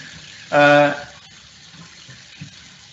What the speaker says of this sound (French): Prends du temps à avoir de l'eau chaude ici.